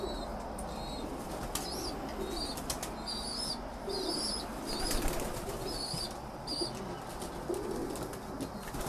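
Pigeons in a loft, including two males, with bursts of wings flapping and soft cooing, fairly faint and close, over a steady background of rustling and high chirps.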